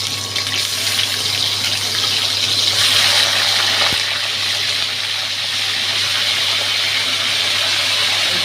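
Water strained off marinated chicken pieces pours and trickles steadily for several seconds, fairly close, with one sharp click midway and no voices.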